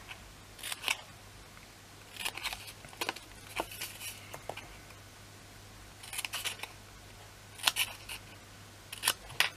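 Scissors cutting and notching card for a shallow gift box, quiet close snips coming in short clustered bursts separated by pauses over a low steady hum.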